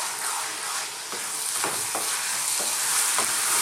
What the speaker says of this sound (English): Here I've got a can or a tin of plum tomatoes, which I'm going to drop in there and mix in